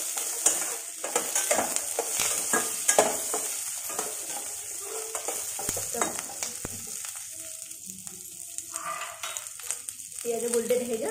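Onions fry in a pan with masala for dhaba-style bhindi do pyaza, giving a continuous close sizzle broken by repeated scraping and stirring strokes, with some quiet speech in the background.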